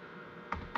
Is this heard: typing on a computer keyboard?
yes